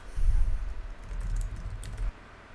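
Rapid close typing on a computer keyboard as boilerplate code is written, a dense patter of keystrokes that thins out and stops near the end.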